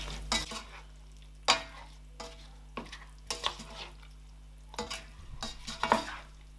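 Okro soup being stirred in a pot after salt is added, a few scraping, clattering spoon strokes against the pot at irregular intervals over a low steady hum, close and fairly quiet.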